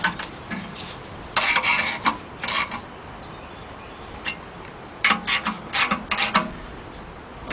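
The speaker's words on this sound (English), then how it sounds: "Then we go up here and tighten up the two 13mm nuts." Ratchet tightening two 13mm nuts on the 3.7 engine of a 2003 Jeep Liberty Sport, bursts of quick clicking pawl strokes in short groups separated by pauses, close and crisp with no talking.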